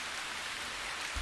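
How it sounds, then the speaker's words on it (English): Steady rain falling in Root Letter, a soft even hiss of drops with a faint low thump at the very end, short and quiet with no voices. "Large drops of rain start to fall."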